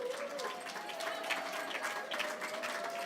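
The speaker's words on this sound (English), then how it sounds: "A great applause." A crowd applauds continuously, dense clapping that fills the whole stretch at a moderate distance.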